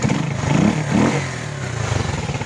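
A Rusi motorcycle engine, quieter after a repair of a factory defect, runs close by with a steady rumbling idle and a couple of brief rises in revs.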